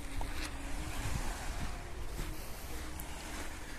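Soft, continuous wash of Adriatic surf at Kamenovo beach, Montenegro, over mixed pebbles and sand, with gentle swells and light wind noise, distant and fairly quiet, no voices.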